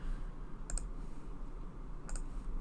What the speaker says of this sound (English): Sorry, I'm using an on-screen keyboard.